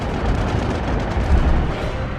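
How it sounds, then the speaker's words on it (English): Heavy, continuous rumbling naval anti-aircraft gunfire from the aircraft carrier Enterprise, overlapping booms and blasts with no pauses, loud and close. "Enterprise erupts with gunfire as every battery spews lead"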